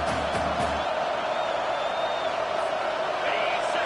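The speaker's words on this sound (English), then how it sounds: "Decibels rising as the crowd gets behind this defense on third down." Football stadium crowd at Texas vs. USC roaring behind the defense on third down, a dense sustained distant roar with scattered whoops under a commentator's voice.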